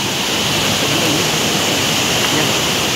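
Flowing water of the Bhalla River, a steady broadband rush like a small waterfall or fast stream, loud and close, continuous throughout with no pauses.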